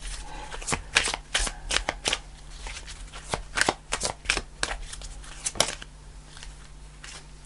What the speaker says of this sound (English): Let's pull another angel card to do with this weight.